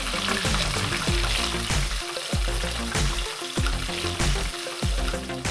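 Portobello fries deep frying in hot oil, a dense, steady, close sizzle with repeated clattering knocks from tongs keeping them submerged.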